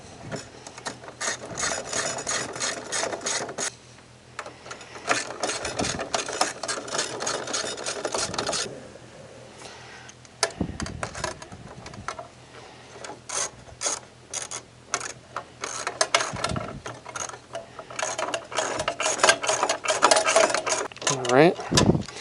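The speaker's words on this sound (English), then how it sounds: "Using that 3/8 deep socket again," A ratchet driving a 3/8 deep socket tightens small bolts while replacing a blower on a Santa Fe compact dehumidifier, its quick clicking strokes coming in repeated bursts with short pauses between.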